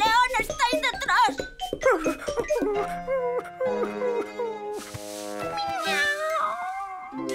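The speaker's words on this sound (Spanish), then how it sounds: "si es solo un gatito" A kitten meows repeatedly, high and insistent, close up, mixed with children's and adults' voices chattering alongside and a light jingling tinkle.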